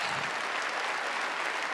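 Comedy show audience bursting into a brief, full round of applause, dense and steady clapping from a large crowd with no voices on top.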